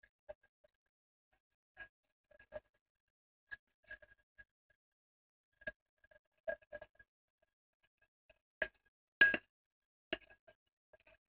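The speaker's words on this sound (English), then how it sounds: "you're going to scrub it with a silicone brush" A silicone brush scrubs inside a beer glass with no extra water, producing sparse, sharp glassy clinks and ticks in irregular bursts against near silence, one louder rattling flurry near the end.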